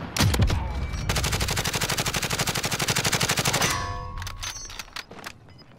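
Rapid automatic gunfire in the shooter Warzone, a fast, loud, evenly spaced burst of shots lasting several seconds, then a few scattered single shots and clinks.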